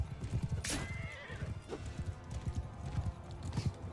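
Horses in the Mount & Blade 2 Bannerlord video game, a dense rapid clatter of hooves under battle noise, with a high whinny rising above it near the start.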